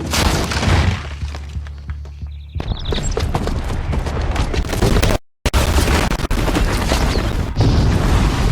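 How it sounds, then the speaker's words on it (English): Bomb explosion in the video game Horizon Zero Dawn, a heavy booming blast with crumbling, shattering debris and sustained rumbling destruction, loud and dense with a brief silent gap partway through. "the booby trap on the bomb downstairs is gonna get set off"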